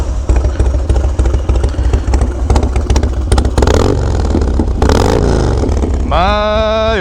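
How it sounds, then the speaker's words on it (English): Harley-Davidson FXDX motorcycle starting up, a loud rumbling, clattering V-twin idle that swells into a rising rev near the end, close and dominant. "FXDX startup for y'all."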